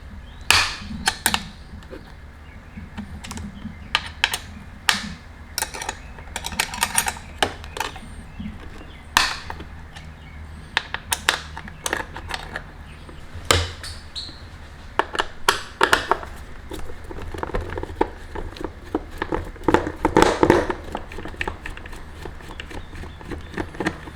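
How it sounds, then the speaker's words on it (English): Fender bolts on a 2019 Kawasaki Ninja ZX-6R being loosened with a 5mm Allen wrench, a series of sharp close metallic clicks and taps in irregular bursts over a quiet background. "you can now see clearly the 4 bolts holding the stock fender assembly to the bike. Using a 5mm Allen wrench."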